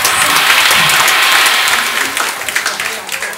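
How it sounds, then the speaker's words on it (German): Audience applause at a staged German chancellor-debate event at an academy, a dense, loud burst of many hands clapping that holds steady and then thins toward the end. "Applaus."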